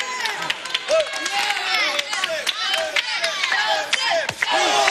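A wrestling crowd at a Robbie E vs. Joseph Park match cheers and shouts in a loud, continuous roar with scattered claps, while an announcer talks over it.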